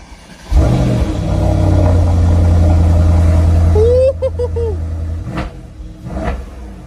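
Mercedes-Benz E63 AMG engine starting with a loud burst, then a steady deep idle rumble, followed by quick revs and a settling throb, heard close with a voice briefly over the end.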